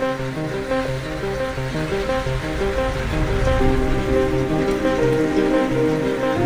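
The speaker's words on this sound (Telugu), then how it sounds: "ఇప్పుడు మోస్తరుపాటు వర్షం కురుస్తున్న దృశ్యాలు మనం చూస్తున్నాం" Moderate rain falling steadily over villages around Pulicherla mandal in the late afternoon, a continuous close wash of drops with tonal sounds running through it, no speech.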